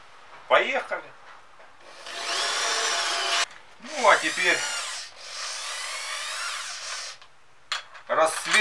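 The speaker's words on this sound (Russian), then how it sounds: "Сверливаем" A power drill fitted with a 20 mm bit bores holes while home beer-brewing equipment is being built. It makes three long grinding bursts, each with a short whining start-up between them, loud and close.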